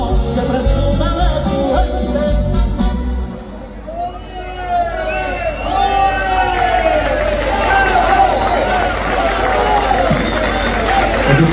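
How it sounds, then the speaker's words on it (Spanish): An audience at an orchestra's open-air night performance in Vilalba, Lugo, cheering and clapping in a loud, dense crowd roar, with a voice speaking over it and whistles rising near the end. "Hoy ese aplauso yo lo dedico todo a vos, ¿vale?"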